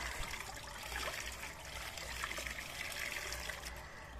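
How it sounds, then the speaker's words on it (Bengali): A baby bathes in a tub of warm water, and the water makes a soft, continuous trickling and sloshing that stays faint and steady throughout, with no voices. "স্নান হচ্ছে ঝুপুস ঝুপুস স্নান"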